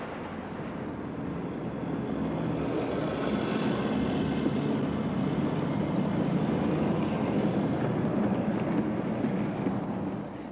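An HO scale model train on a Continental-style layout with overhead traction wires and a pantograph, its steady rumbling run continuing without pause, with no voices.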